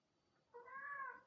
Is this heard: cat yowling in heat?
yes